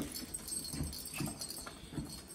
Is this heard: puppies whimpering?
yes